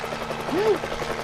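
Helicopter sound effect from a Jackbox party game, a brief whirring swoop rising and falling in pitch, heard over a busy live-venue background with people talking.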